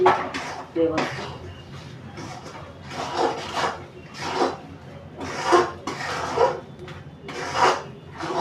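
Mawa is stirred into a coconut mixture in a pan, with scraping and rubbing strokes of a spoon on metal coming in irregular bursts, some clinks between them.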